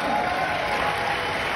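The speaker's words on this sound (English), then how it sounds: "Give those people a big round of applause" Applause from a seminar audience after participants below Pro 6 are recognised, a steady dense wash of clapping that fills the whole moment at moderate loudness, with some crowd murmur mixed in.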